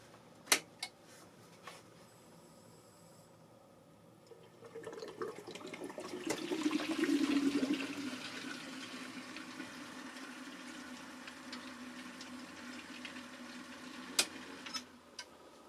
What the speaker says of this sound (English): I filled up the reservoir, so I'm going to run it again